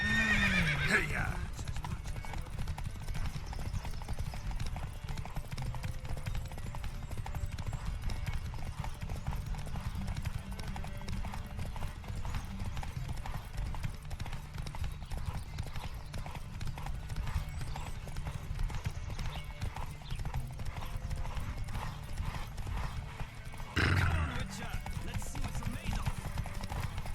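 Horses gallop in a race in the video game Witcher 3, their hooves pounding in a fast, continuous clip-clop with an occasional whinny, loud and close, while voices call out over the hoofbeats.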